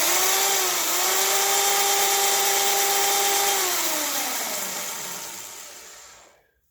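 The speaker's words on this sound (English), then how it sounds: "So we turn on the drill to get it going on, hold the cutter" A drill spins a case trimmer cutting an ammunition cartridge case down to length for reloading, a steady, loud motor whine that holds for several seconds, then winds down in pitch and fades away.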